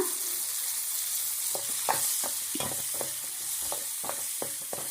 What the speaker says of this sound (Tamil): இப்போ இந்த வெங்காயம் பூண்டெல்லாம் நல்லா வதங்கினதுக்கு அப்புறமா ரெண்டு மீடியம் சைஸ் தக்காளி வந்து சேர்த்துக்கிறேன் சேர்த்துட்டு இப்போ அதையும் வதக்கி விட்டுக்கலாம்